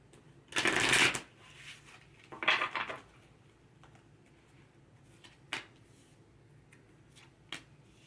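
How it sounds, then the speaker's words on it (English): Tarot cards being shuffled, a long riffling burst followed by a shorter one, then a few isolated soft taps and clicks in a quiet room. "One more shuffle."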